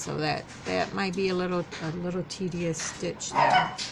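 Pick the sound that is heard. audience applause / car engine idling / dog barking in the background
dog barking in the background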